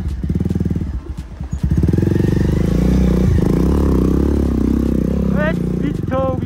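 A motorcycle engine idles and revs close by with clattering and scraping, while people talk loudly over it.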